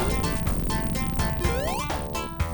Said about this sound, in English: In the 2013 Christian Whitehead port, it is noticeably quieter.